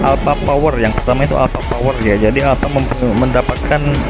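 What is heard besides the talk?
None of the usual background noises is heard.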